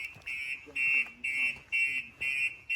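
A Citroen Relay, Fiat Ducato or Peugeot Boxer van alarm at full trigger sounds a loud, regular electronic beep about twice a second, five pulses in a row, with a faint voice underneath.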